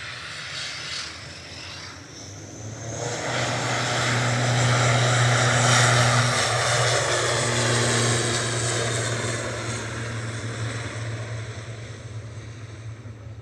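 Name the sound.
Aurigny propeller airliner heading to Guernsey, Manchester Airport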